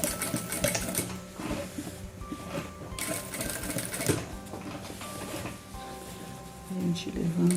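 A sewing machine stitches denim for a bathroom set, running in bursts of rapid mechanical chatter with brief pauses and clunks, close and loud.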